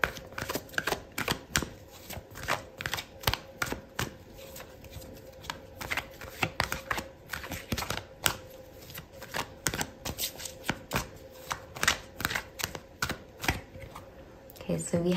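Tarot cards being shuffled and pulled from the deck during a reading, giving a steady stream of close riffling and snapping card sounds that runs throughout.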